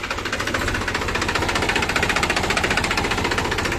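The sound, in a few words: Mahindra 265 DI tractor engine running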